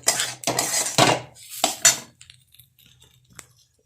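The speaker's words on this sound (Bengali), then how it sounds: "সুজিটা দিয়ে কিন্তু ভালো করে ভাজবো সুজিটা" Semolina (suji) being dry-fried in a pan and stirred with a metal spoon: a few loud bursts of scraping and clattering against the pan, then quieter scattered taps and clinks, close up, with no voices.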